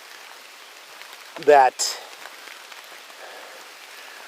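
Rain falls outdoors on a rainy day with road washouts nearby, a steady faint patter throughout, briefly interrupted by a short spoken word.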